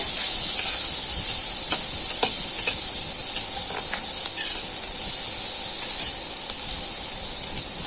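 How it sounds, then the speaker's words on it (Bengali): Steady, close sizzling of chopped onions frying in a pan, with occasional stirring scrapes and crackles, continuous hiss throughout with no talking. "পেঁয়াজটাকে ভেজে নিতে হবে"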